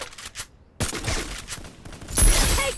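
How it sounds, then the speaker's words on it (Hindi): Bursts of rapid gunfire in Garena Free Fire, loud and close, with a short quiet gap before a heavier volley of shots near the end. "कोई गोली चला रहा है"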